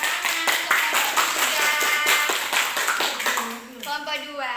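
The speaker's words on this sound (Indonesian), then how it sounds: "kita beri tepuk tangan untuk kelompok" Students in a classroom clap for a presenting group, a brisk burst of close hand claps filling most of the moment before tapering off as a voice starts speaking.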